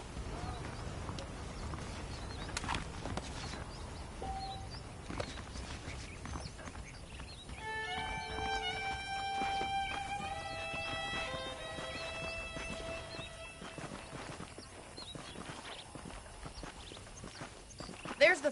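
Horses clip-clopping at a walk in the Red Dead Redemption video game, a steady, moderate hoof rhythm running under background music and game ambience throughout.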